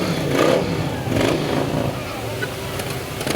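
Harley-Davidson motorcycles rumble past at a Christmas parade in Kingston, a steady mid-distance engine drone that swells slightly as bikes go by, with people talking over it throughout.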